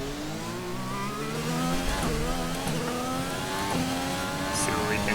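Formula 1 car engine in the F1 2020 video game braking into and powering around a hairpin, a loud, steady whine that drops on the downshifts and climbs again as the car accelerates out, with a voice talking over it.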